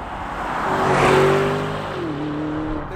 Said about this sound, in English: I'll just knock it into Corsa mode, which is the most aggressive setting, and particularly from second to third, you just get this violent gear change